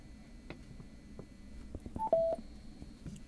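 A Samsung Galaxy phone and a Divoom Voombox outdoor rugged portable Bluetooth speaker pair over NFC, giving a short, quiet two-note electronic confirmation beep amid soft handling clicks.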